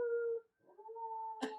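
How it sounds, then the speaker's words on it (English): A wolf dog howls in sustained, wavering tones that rise and hold, joined near the end by a brief yelp, heard close and alone with no sirens clearly audible. "there's our dog howling along with the sirens"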